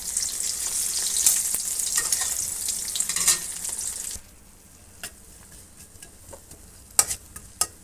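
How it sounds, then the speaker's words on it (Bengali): Hot oil splattering while frying at breakfast, a dense loud crackling sizzle for several seconds that abruptly drops to a quieter simmer with scattered sharp pops. "সরো সরো, তেল ছুটে পড়বে"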